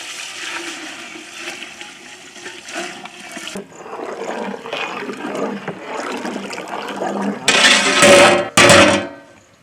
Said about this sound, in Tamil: பிரியாணிக்கு அளவு தண்ணி ஊற்றிக்கலாம்.